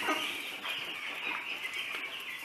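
Broiler chickens cluck in a cage, with repeated short, fairly faint clucks coming close together in an uneven rhythm.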